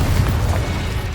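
A Confringo spell blast in the wizarding game Hogwarts Legacy, a heavy, booming explosion with a deep rumbling body that fills the whole short moment, loud and close.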